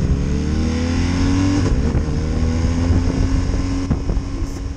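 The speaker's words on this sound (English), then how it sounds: "When you push it, you have a low note with a lot of bass." A BMW R1250RS motorcycle engine fitted with an Akrapovic exhaust revs with a deep, bassy note, its pitch rising and falling through several throttle blips, heard close and loud with some wind buffeting.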